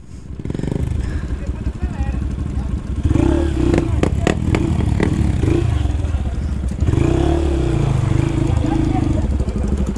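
A new Honda Bros 160 motorcycle crossing a river, its engine droning loud and close with splashing and clattering, and people talking over it.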